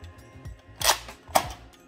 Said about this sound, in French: Et là maintenant, tu peux charger ton blaster.